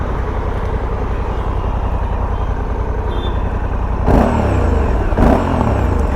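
A Honda Africa Twin 1100 DCT motorcycle's engine drones steadily up close, with two quick revs blipping sharply above the constant rumble near the end.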